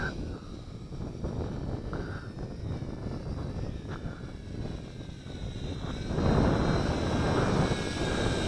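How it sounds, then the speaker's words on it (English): A WLToys V686G FPV quadcopter drone makes a high-speed pass, its faint whining buzz swelling as it approaches and rushing close near the end, with wind noise and a little distant talk. "Let's do a high-speed pass by my position. That's certainly high speed."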